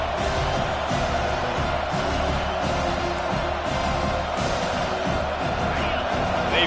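Crowd noise from an American football video game, a steady, loud roar of stadium fans with scattered cheers and whoops rising through the whole stretch, with faint talk mixed underneath.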